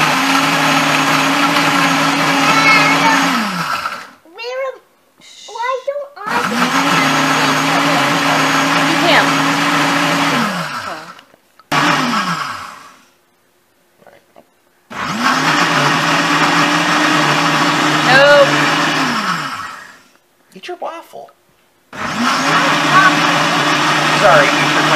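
Blender whirring as it makes a coffee breakfast smoothie, running in several loud bursts of a few seconds each with short pauses between, and brief talk in the gaps.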